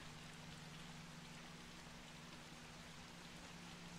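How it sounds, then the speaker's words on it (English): Steady rain falls beyond a balcony in the video game Observer, a soft, even hiss with a low constant hum beneath it. "Oh, let's listen to the rain a bit."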